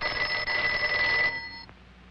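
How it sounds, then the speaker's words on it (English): A cartoon telephone rings with a steady bright electronic trill for over a second, then cuts off, leaving a faint fading tail; no voices over it. "Answer the phone, Luke."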